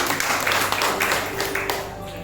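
Congregation at a Sunday church service clapping together, a dense, fairly quiet patter of hands that fills the moment evenly.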